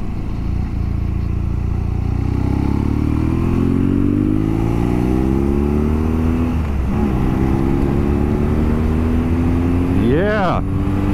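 A BMW R nineT motorcycle engine hums steadily while riding, its pitch rising as it accelerates through gears, with a quick rev near the end.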